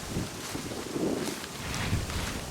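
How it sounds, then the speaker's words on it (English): Wind picking up outdoors at an air rifle shooting spot, a steady broad whoosh with gentle gusts and faint buffeting against the microphone, with no voices. "wind's picking up"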